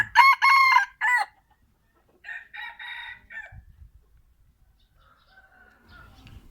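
Chickens in a Hmong poultry yard: a loud, close rooster crow opens, followed by a second crow and quieter clucking that fades toward the end, with no talk.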